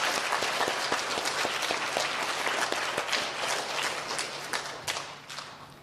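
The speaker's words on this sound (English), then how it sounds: "Let's give Lucas and Ruby one more round of applause." Applause from an audience at an elementary school recognition ceremony: sustained, even clapping from many hands that fills the room and gradually tapers off toward the end.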